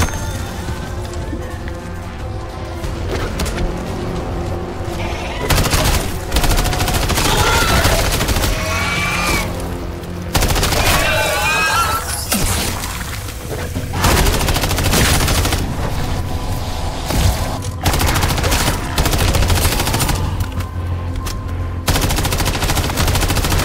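In a Modern Warfare III Zombies gunfight with an MTZ-556, rapid automatic gunfire rattles in long, loud bursts separated by brief lulls, close and continuous with occasional impacts.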